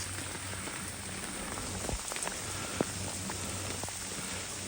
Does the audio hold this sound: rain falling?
yes